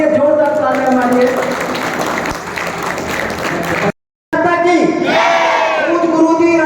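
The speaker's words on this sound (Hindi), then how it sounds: "एक बार अपने लिए जोरदार तालियां मारिए।" A live crowd at a Hindi-speaking gathering bursts into loud, sustained applause and cheering that fills the space, with a brief dropout near the four-second mark before the clapping and shouting resume.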